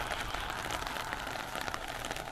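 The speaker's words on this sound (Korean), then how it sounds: "빗소리도 타닥타닥 나고" Rain pattering on a misty day among wet grass, a dense crackle of drops hitting surfaces nearby, steady and fairly loud throughout with no talk.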